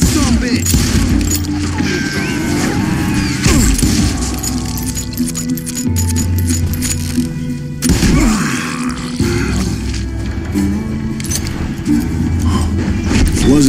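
Bursts of gunfire from a posse in the Western shooter Call of Juarez: Gunslinger crack out in irregular volleys over game music and ambient noise, fairly loud, with a sharp cluster of shots near the middle.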